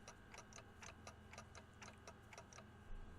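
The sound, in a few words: clock ticking from Limbus Company video game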